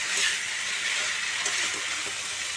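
Boiled banana flower frying in a pan, a soft, steady crackling sizzle at low volume with a few faint stirring sounds, no voices.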